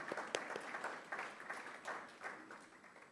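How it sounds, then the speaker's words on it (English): Listeners at a talk in Mill Hill give themselves a round of applause, a soft, distant patter of scattered hand claps that continues briefly with no voices over it. "give yourselves a round of applause"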